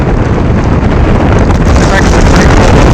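Strong blizzard wind roars across the microphone at the Chesapeake Bay shoreline in Chesapeake Beach, Maryland, a constant, loud buffeting rush with waves faintly beneath it and no let-up.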